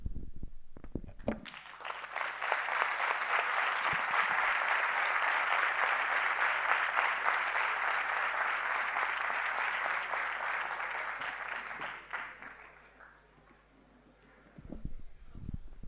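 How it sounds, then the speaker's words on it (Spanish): A conference audience bursts into sustained applause lasting around ten seconds, with dense clapping that slowly fades out, bracketed by brief moments of room noise. "quiero daros un aplauso"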